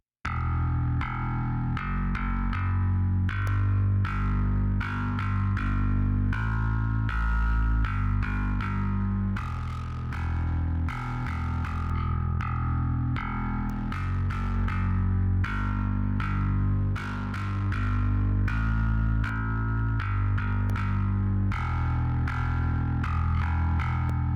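A heavily saturated, gritty mono bass guitar through a KlangHabitat Cassiopeia 500 tube saturation unit plays a steady rhythmic riff with punchy plucked notes, loud and continuous, with no voices.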